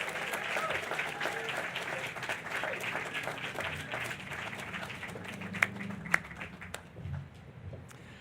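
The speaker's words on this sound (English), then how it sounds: "Give them a huge round of applause." Sustained applause fills the room for the winners of the 2019 Moran Contemporary Photographic Prize, a steady roll of crowd clapping, fairly distant and soft, with voices talking over it.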